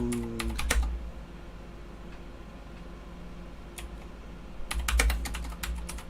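Typing on a computer keyboard during a podcast: two loud bursts of rapid key clicks, one at the start and one about five seconds in, with quieter room tone between.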